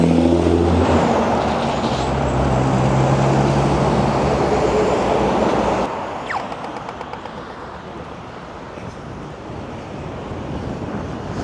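Heavy traffic roars past on a big road beside Albert Park Lake in Melbourne, trucks and cars rumbling loud and close for several seconds before easing into a quieter, steady wash of passing vehicles with wind buffeting the microphone.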